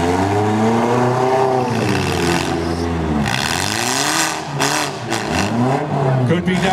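Car engines revving hard in a mini heat race at Russell, rising and falling whines sweeping up and down repeatedly, loud and close, with an announcer talking over them.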